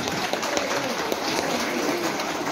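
A crowd applauds to welcome a guest at the Lebong Kali Puja festival. The clapping is a dense, steady wash heard from a little distance, with a few sharper claps standing out and voices faintly underneath.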